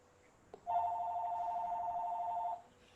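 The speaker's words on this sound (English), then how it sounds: "Somebody get the phone." A telephone rings in a meeting room during an architecture review board meeting, one steady electronic ring lasting about two seconds after a brief click, loud and alone against a quiet room.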